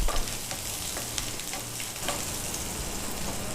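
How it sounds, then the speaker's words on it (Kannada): Vegetables sizzle in a hot pan with seasoning, giving a steady close crackle of frying punctuated by faint stirring scrapes, with no voices. "ಎಲ್ಲ ತರಕಾರಿ ಹಾಕಿ ಹುರಿತಾ ಇದ್ದೀರಿ"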